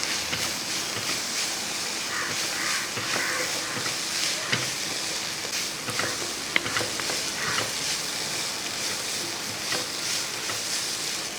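Kashmiri chili powder and turmeric being stirred in a frying pan for a Kerala-style drumstick flower thoran, giving a steady soft sizzle with faint scraping strokes and light clicks throughout, and no voices.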